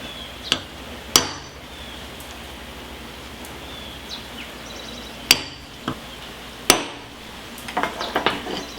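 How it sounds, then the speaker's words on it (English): A metal punch is struck with a hammer to mark a nut on a steering gear box being rebuilt. Several sharp, isolated metallic taps ring out close by, spaced seconds apart, followed by a quick cluster of lighter clinks at the end. "I'm going to do that with a punch so that when I reassemble it, everything's going to be in the exact same place"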